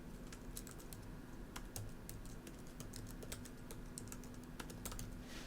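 Quiet typing on a computer keyboard, with irregular crisp key clicks tapping out a word at close range over a soft steady background hum.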